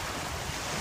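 Ocean surf rolls steadily onto a beach on a rainy day, a continuous broad wash of waves mixed with gusty wind buffeting the microphone, with no voices.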